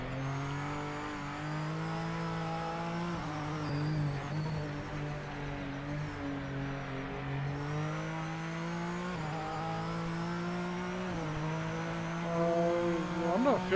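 Honda race car engine in the racing video game Project Motor Racing, a steady sustained drone with rising and falling pitch through gear changes, loud and continuous throughout.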